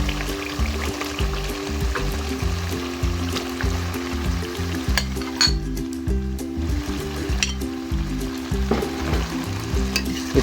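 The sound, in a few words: potatoes stirred into fried masala in ghee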